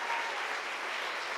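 An audience at a closing ceremony applauds a student research team working on planarian stem cells, a dense, steady wash of clapping from many hands that fills the room.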